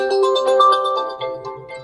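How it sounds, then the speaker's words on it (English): A preinstalled ringtone on a Realme GT8 Pro phone plays a bright, melodic synthesized tune with clear sustained tones, fairly loud and alone, without any talking. "in order to listen how the particular ringtone sounds, simply tap on it"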